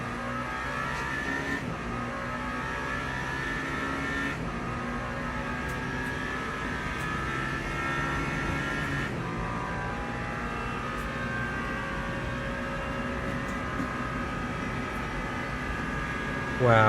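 Steady high-pitched whine of a Porsche race car engine in the Le Mans Ultimate racing game, sustained at speed with shifting pitch as gears change, constant and prominent throughout.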